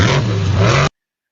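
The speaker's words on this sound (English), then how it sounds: "The iconic pop that comes out of this truck that no one knows what it is" Lee O'Donnell's Monster Jam truck gives off a loud roaring engine burst in a stadium, heavy and rumbling for under a second before cutting off abruptly.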